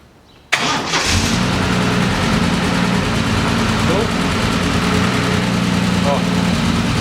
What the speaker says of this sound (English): we're gonna start the engine again